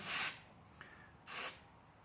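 Carburetor cleaner is sprayed onto a motorcycle carburetor in a shop, two short, close aerosol hissing bursts separated by a brief pause.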